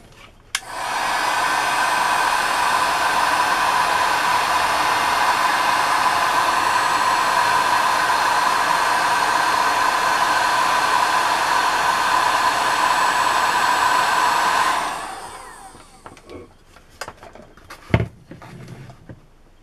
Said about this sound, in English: To get a heating gun